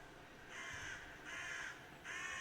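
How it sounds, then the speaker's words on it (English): Three loud, harsh cawing bursts from seagulls in the video game Minecraft, evenly spaced and clear over a quiet background. "Are those the seagulls? I hate seagulls so much."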